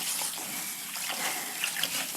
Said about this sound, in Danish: Og så lader jeg bare hanen løbe med koldt vand ned i, imens jeg begynder at skåre lidt rundt i risene.